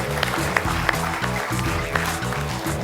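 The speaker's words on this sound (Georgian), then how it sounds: "აპლოდისმენტები" Studio audience applauding at a Georgian comedy contest show, a steady mass of clapping with scattered louder claps running throughout.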